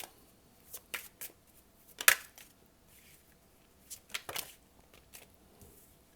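Tarot cards are shuffled and drawn at a reading, heard as a scattering of quiet crisp flicks and slaps spread irregularly across the stretch, with no talk.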